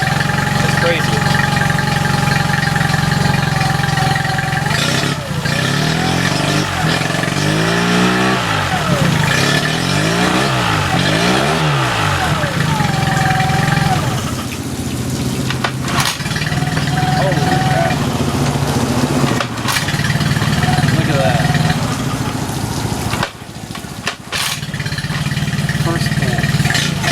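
Outboard boat engine running loudly just after its first start, with a steady idle, revving passages and voices talking nearby over the engine noise.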